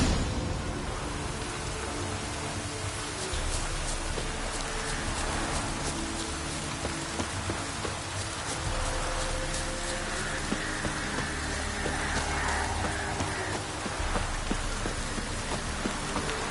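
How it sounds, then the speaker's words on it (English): Rain pours steadily in The Witcher 3, a dense, constant hiss of drops hitting surfaces, loud and unbroken for the whole stretch with no voices. "Looks like rain."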